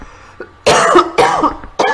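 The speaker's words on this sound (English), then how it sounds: "I can't stop coughing." Harsh, forceful coughs come close and loud in two main bursts, with a softer throat sound before and another cough starting at the end; nobody speaks.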